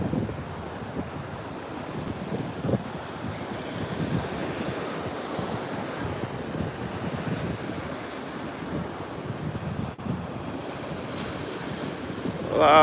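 Ocean surf washing steadily onto a Sanibel beach at sunset, a continuous broad roar of waves mixed with wind buffeting the microphone, with no clear voices.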